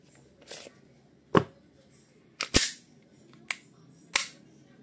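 A WE G17 Gen3 airsoft pistol fires several sharp, separate shots at uneven intervals, close and loud against a quiet background.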